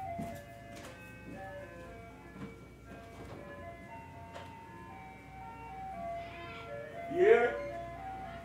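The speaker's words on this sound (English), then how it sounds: "That ice cream truck was loud as hell" An ice cream truck passes along a street, its steady jingle tones playing in the background and growing louder near the end as it goes by, with a voice talking over it.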